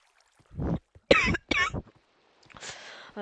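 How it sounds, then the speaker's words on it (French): A few sharp coughs in quick succession, close and dry, with short pauses and a softer breathy rasp after. "Désolé, je tousse un peu"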